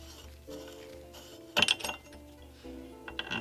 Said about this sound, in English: Now you're gonna unthread this gigantic lock washer,